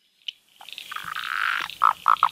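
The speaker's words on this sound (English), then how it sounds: "that's the Blue Mountains tree frog" A Blue Mountains tree frog calls out in the wild, starting with a single click and then a long buzzing trill, followed by three loud, sharp pulsed croaks close by.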